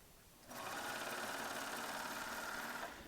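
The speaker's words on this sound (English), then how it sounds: "So right now it's set up to do an overlock stitch, so I'm going to actually sit and show you this. I'm going to stitch a little bit." A Baby Lock Ovation serger sews an overlock stitch, its motor whirring up quickly into a steady high-speed mechanical hum that runs continuously, close and fairly quiet, before easing off.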